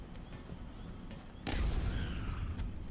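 Alloy cannon fired in XCOM Enemy Within (Long War mod), a single heavy boom that cuts in sharply midway and rumbles on, following a steady low game background.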